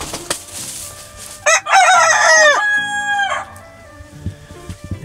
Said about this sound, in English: She's a really pretty little hen.